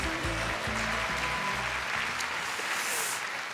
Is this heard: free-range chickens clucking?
no